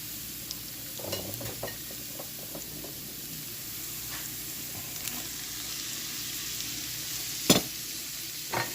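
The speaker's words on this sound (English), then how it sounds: "We're just gonna cook these mushrooms in just for a minute, and with the onions and the garlic" Mushrooms cooking with onions and garlic in a pan for a wild turkey alfredo, a soft, even sizzle at low volume with occasional light clicks and one sharper knock near the end.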